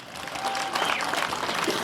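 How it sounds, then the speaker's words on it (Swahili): Applause from a crowd at a political rally in Makueni on International Women's Day, a steady dense clapping that swells slightly and holds for about two seconds. "Tupige makofi."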